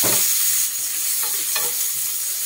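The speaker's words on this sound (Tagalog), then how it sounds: "Nagigisa na ako ng bawang at sibuyas" Garlic and onion sautéing in a hot pan, a steady loud sizzle with a few scraping stirs of the spatula, close and unbroken by speech.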